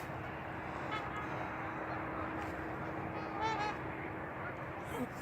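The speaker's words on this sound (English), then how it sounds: "over there is a whole bunch of trumpeter swans" A large flock of trumpeter swans sounds off outdoors, with faint, distant honking calls rising out of a steady background wash.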